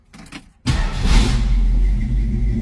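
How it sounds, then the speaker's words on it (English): A carbureted 1966 Ford Mustang engine cranks briefly and fires right up, catching abruptly and settling into a loud, steady fast idle up close with no talking. "Oh, she fires right up."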